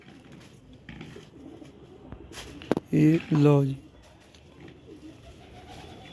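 Pet pigeons kept by a hobbyist coo softly in the background while someone speaks nearby, with a louder burst of sound in the middle.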